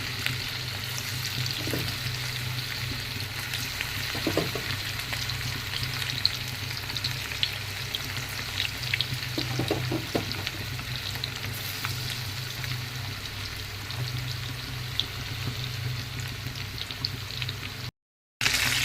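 Chicken pakoras deep frying in hot oil give a steady, close bubbling sizzle that runs unbroken for the whole stretch, with a few soft knocks, and cut out briefly just before the end.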